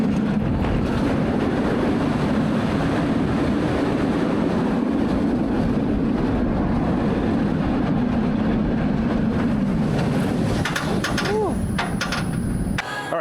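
Riding the KUMBA roller coaster at Busch Gardens Tampa brings a constant loud roar of track rumble and rushing wind that barely eases until a slight drop at the very end.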